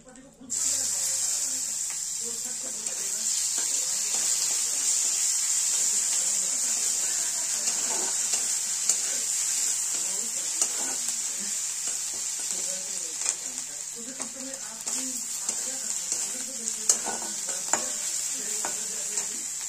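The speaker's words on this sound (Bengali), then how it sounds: "দিয়ে ভালো করে আমরা 1 থেকে 2 মিনিটের মতন ভেজে নেব, যাতে কাঁচা গন্ধটা না থাকে।" Ginger garlic paste fries with spices in a pan for a Punjabi kadhi pakoda, giving a steady close sizzle with occasional stirring scrapes and clinks throughout.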